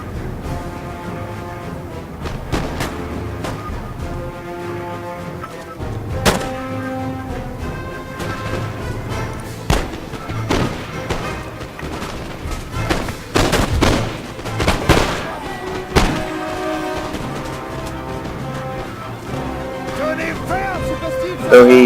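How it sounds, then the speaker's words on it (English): Foot guard musket volleys crack in a Napoleon: Total War battle, sharp bursts recurring irregularly over background music and distant battle noise. "my foot guard just destroy the rest with their muskets"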